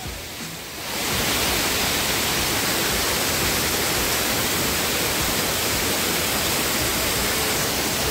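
A large waterfall beside a trekking road on the Bhimashankar trek bursts in after a quiet second as a loud, dense, unbroken roar of falling water that fills the scene alone.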